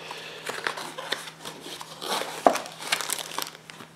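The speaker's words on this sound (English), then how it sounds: "So let's go ahead and unbox it." Close, crackly crinkling of plastic packaging as something is opened, with irregular rustles and a sharper snap partway through.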